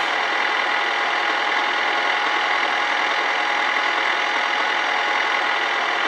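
A diesel car engine runs steadily in the driving game My Summer Car, a continuous, loud, even drone with no breaks or talk.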